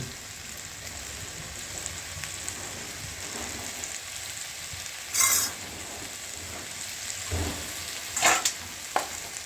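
Mutton frying in a pan for a spicy red mutton curry, a steady close sizzle and crackle with occasional sharp stirring scrapes and clinks of a spoon against the pan.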